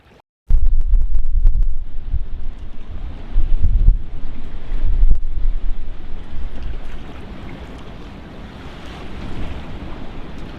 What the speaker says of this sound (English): with the wind blowing and basically not being much good for anything